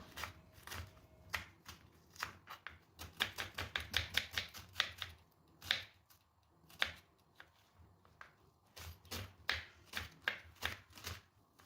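Two onions being finely chopped on a board, rapid bursts of close, crisp knife taps with short pauses between runs, no talk.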